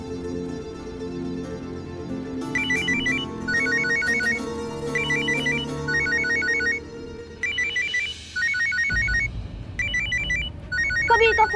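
A phone rings with a repeating electronic ringtone, bursts of quick melodic beeps cycling over a steady background drone, loud and close, with no talking during the ring.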